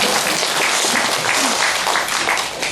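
A burst of audience applause at a Buddhist meditation discussion, dense and steady clapping from many hands for a few seconds.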